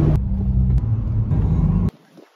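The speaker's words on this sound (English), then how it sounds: "So I'm currently driving right now" Car on the road heard from inside as a steady low engine and road rumble with a few brief knocks, cutting off abruptly near the end to near quiet.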